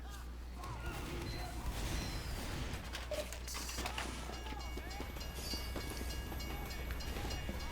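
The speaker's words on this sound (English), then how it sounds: "I thought I was gonna have to wait there in front of a moving train." A moving train in Team Fortress 2 gives a low, steady rumble with rattling and clanking, mixed with scattered gunfire and game effects, all at a fairly faint level.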